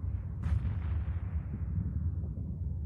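A ship explodes in the space game Eve Online during a capital-ship fight, giving a sudden sharp burst followed by a long, low rumbling decay.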